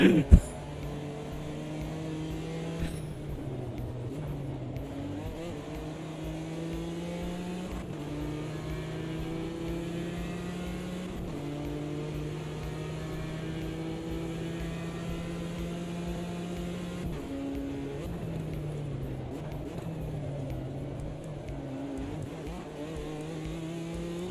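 A Porsche race car engine in a racing video game drones steadily and evenly, its pitch climbing and dropping through repeated gear changes, with a brief loud burst at the start and no talking.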